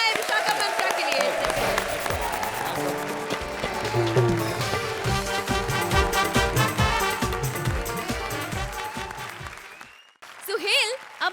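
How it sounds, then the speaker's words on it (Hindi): A studio audience on a television comedy show applauds energetically under loud, busy music with a rhythmic beat, before the sound cuts out briefly and a short burst returns at the end. "जोरदार तालियां हो जाए"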